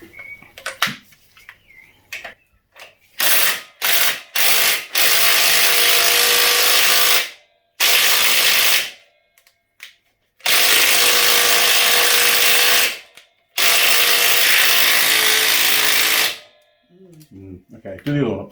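An impact wrench works on parts of a Suzuki DR200 motorcycle being fitted with bars, controls and exhaust. It runs in several loud, sustained whirring bursts separated by short pauses, and people talk in between.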